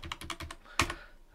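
Computer keyboard keys tapped in a quick burst of about five strokes, then one sharper, louder keystroke, heard close and alone without speech.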